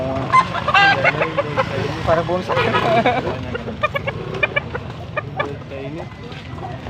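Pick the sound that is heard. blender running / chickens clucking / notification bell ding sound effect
chickens clucking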